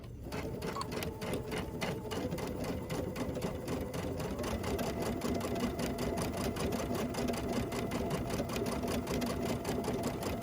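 Sewing machine running a steady straight stitch through fabric for a small pillow, a fast even rhythmic chatter that stays close and loud for the whole stretch.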